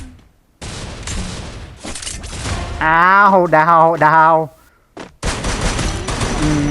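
Rapid bursts of Free Fire gunfire with explosive rounds crackle in quick volleys, loud and sharp, while someone speaks briefly between the shots.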